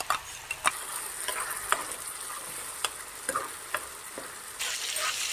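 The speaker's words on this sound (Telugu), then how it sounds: "ఈ ప్యూరీని అంతా ఇప్పుడు ఆయిల్ బయటకు వచ్చే వరకు ఫ్రై చేయాలండి" Tomato purée and onion-cashew paste fry in oil, giving a steady close sizzle with scattered sharp pops and spatters and a slightly louder hiss near the end, with no speech.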